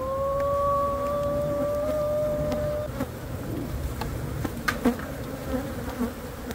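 Bees inside a wall make a steady buzzing drone for a few seconds, then it fades into quieter muffled rustling and scattered taps.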